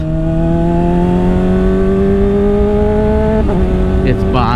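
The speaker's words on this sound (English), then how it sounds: "It's the HOTBODIES Racing Stinger exhaust. It's a slip-on." A Honda CBR600RR fitted with a HOTBODIES Racing Stinger slip-on exhaust revs up steadily and loudly up close, its pitch climbing smoothly before a quick blip near the end, with no talk over it.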